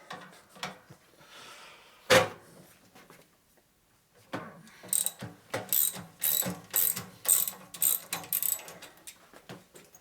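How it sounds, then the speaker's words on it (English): A ratchet clicks in quick, uneven bursts while undoing a nut on a 1949–1977 Harley-Davidson wide glide fork, close and fairly faint, after a single sharp metallic knock. "so let's undo that nut"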